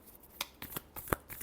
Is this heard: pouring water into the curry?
no